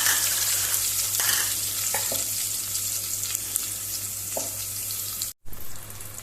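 Potatoes and onion with fresh coriander sizzling steadily in a pan, a continuous close frying hiss with occasional stirring scrapes, cut by a brief silent gap near the end.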